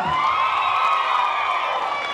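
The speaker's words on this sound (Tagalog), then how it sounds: "Parinig mo na naman sa palakpakan ng isang hiyawan." A barangay crowd at a town event in Cabuyao cheers and shouts loudly in a dense, sustained roar close by, with whoops over the din and no clear individual talk.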